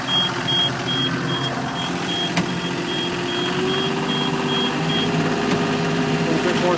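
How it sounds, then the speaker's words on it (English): A Takeuchi excavator's low-battery alarm sounds as a string of evenly spaced, high short beeps over the engine's steady idling rumble, close and continuous. "Battery's low, so the battery alarm's going off."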